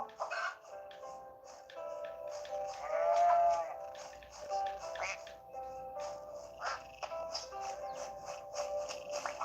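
Sheep bleat in the farm video game Green Adventure Farm's Friends, one long wavering bleat near the middle with shorter cries around it, set against a busy layer of other animal calls and game sounds.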